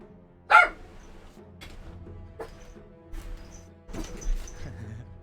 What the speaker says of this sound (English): You'll have to excuse the dog noises in the background here and there.